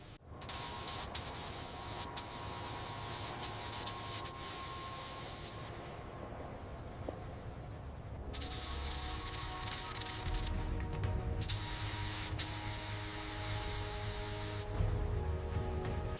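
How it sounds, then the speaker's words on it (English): Spray paint in crimson red hisses out under constant pressure onto a restored trenching machine, with long steady bursts broken by a few short pauses. "Ensure the pressure is constant. Keep it steady. We need that perfect finish. Watch the overspray near the skull."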